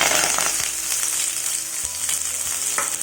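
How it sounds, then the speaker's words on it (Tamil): Onion and curry leaves hit hot oil in a kadai, a loud dense sizzle and crackle up close, with a few scraping stirs near the end and no voices. "வெங்காயம் கறிவேப்பிலை சேர்த்துக்கிறேன்."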